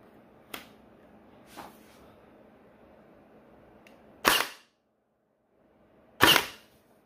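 Sharp pops from a Zius BK1S AEB blaster firing Worker Gen 3 darts on semi-auto, four separate shots spaced irregularly, the last two louder and close, with quiet gaps between.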